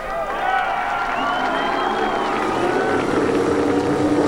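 Several 3.5-liter IndyCar engines firing up on the grid before a race at Michigan, a broad roaring wash of engine noise with rising whines under crowd noise.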